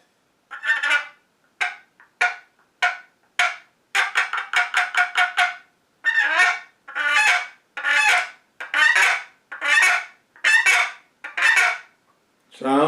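A one-sided striking turkey call, wooden or bone, worked to imitate a turkey: a string of short, nasal, honking yelps, some in quick clusters and some spaced out, loud and close with no other sound.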